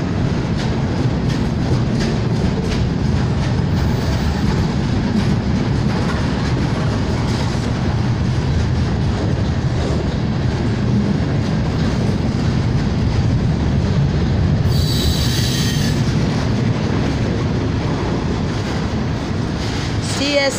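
A long CSX military freight train carrying Humvees rumbles steadily past close by, heavy wheel noise and clatter filling the whole stretch, with a brief high squeal near the end.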